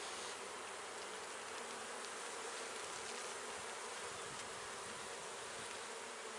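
Honey bees buzz densely in an open hive box full of nectar and honey, a constant close, even drone with no pauses and no voices.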